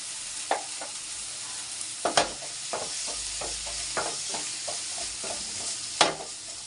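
Spices and chilli powder frying in oil in a pan for a village-style brinjal gojju, a steady sizzle broken by sharp scrapes and clacks of stirring at irregular intervals, close and clear with no talk.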